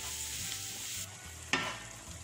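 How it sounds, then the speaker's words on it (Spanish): Mushrooms seasoned with nutmeg sizzle steadily as they sauté in a pan, with a spoon scraping and stirring through them and one sharper clatter partway through; no voices. "vamos a seguir moviéndolo para que se integren todos los ingredientes y estos champiñones se sofrían"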